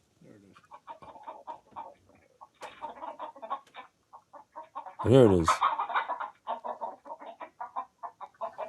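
Chickens cluck in short, repeated bursts, with one loud squawk midway, in footage of chickens with a weasel; a person briefly speaks.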